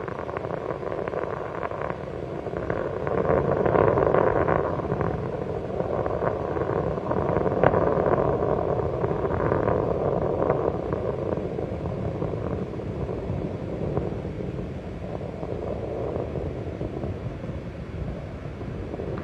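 A deep, steady rumbling roar of the space shuttle Columbia's three liquid-fuel main engines at full throttle during launch, continuous and powerful with a broad low-end hiss, holding at a constant level throughout.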